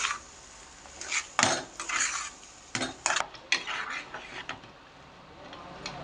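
Fried potato pieces go into a metal pan for a potato and spinach curry, several sharp clattering scrapes and knocks of a utensil against the pan, close and irregular, with quiet gaps between.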